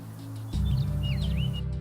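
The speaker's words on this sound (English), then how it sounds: "The eagle, one of the biggest birds in the sky, and one of the deadliest." An eagle gives a thin, high, rising-and-falling call several times over a steady low drone, moderately clear and not far off, with no voices present.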